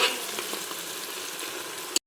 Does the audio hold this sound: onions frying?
yes